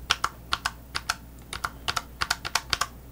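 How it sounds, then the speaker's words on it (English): Sharp, high-pitched key clicks from a Loupedeck macro keypad tapped in an irregular run, about a dozen presses over a few seconds, close to the mic with no talking. "the Loupedeck keys emit a high-pitched click that sounds like a cheap keyboard"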